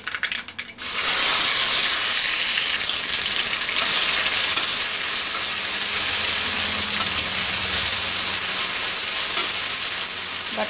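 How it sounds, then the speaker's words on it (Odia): Tempering spices hit hot oil in a kadai and sizzle loudly with a bright, continuous hiss and spatter. The sound starts abruptly and stays even for several seconds, with no talking. "ତେଲ ଗରମ ହେଲେ ଫୁଟଣ ଦେବା"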